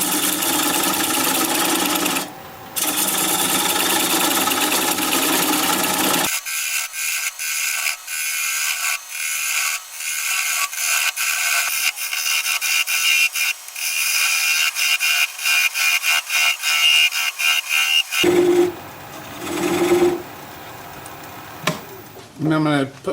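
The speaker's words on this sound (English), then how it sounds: "Going to grab a 3/8 inch bowl gouge and commence to removing that tenon." A wood lathe spins a bowl at about 600 RPM while a 3/8 inch bowl gouge cuts away the tenon, giving rapid chattering, ratcheting scrapes, intermittent and close, with a steadier mechanical whir at the start and end.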